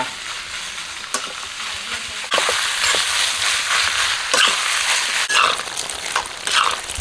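Pork fat being stir-fried in a wok over high heat to render out its oil, with a steady loud sizzle and frying hiss and repeated scraping strokes of a spatula, close up, with no talking.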